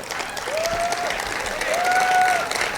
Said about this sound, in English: Golf applause.